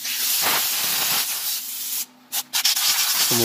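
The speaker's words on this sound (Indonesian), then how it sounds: "Kemudian kita semprot ya pakai airgun" A loud, close hiss of compressed air from an air gun blasting steadily onto a Toyota Avanza rear brake part, cut off briefly by a couple of short gaps before spraying again.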